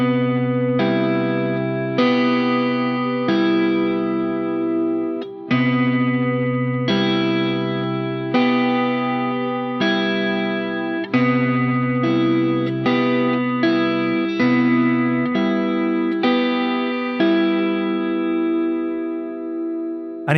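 An electric guitar run through chorus and distortion effects plays a slow passage of sustained chords, each one struck and left to ring before the next change. The tone is loud and close, with no talking.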